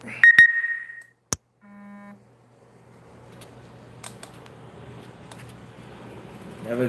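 A phone gives a short electronic notification beep, then a sharp click and a brief lower tone, followed by quiet room noise and a low hum.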